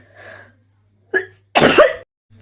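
A person coughs, with a soft breathy sound followed by two sharp, close coughs, the second louder and rougher, with a faint low hum underneath.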